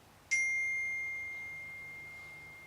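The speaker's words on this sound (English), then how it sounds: "Paul Wright notification, that was Paul" A single bright ding of a notification chime rings out once, sharp at first, then rings on and fades slowly over a quiet background.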